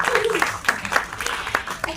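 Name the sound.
person clapping hands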